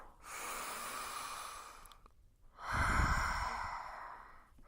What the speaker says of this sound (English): just take a nice deep inhale